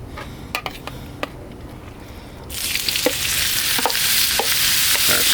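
Seasoned ground beef hits an oiled Blackstone griddle partway through, and a loud, steady sizzle takes over from the quieter scraping before it. Sharp clicks of a metal spatula scraping the surface sound over the frying.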